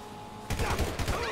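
A sudden burst of gunfire erupts in the GTA V video game: a rapid volley of loud shots crackling after a half-second of quiet background hum.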